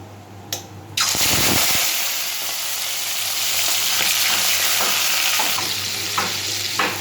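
Shrimp frying in hot oil, a loud steady sizzle that starts after a brief clatter and continues alone without pause, with light stirring scrapes near the end.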